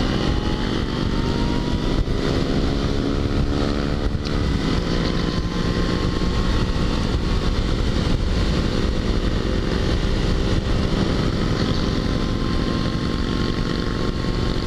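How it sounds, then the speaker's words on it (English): A loud, constant engine roar with wind rushing past, like riding on a motorcycle at speed, continuous throughout. "I'm on a motorcycle."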